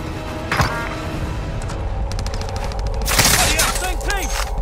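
Gunfire crackles through a battle royale video game match, with sharp bursts and rapid volleys stacking into dense fire toward the end, under continuous game noise and a voice talking.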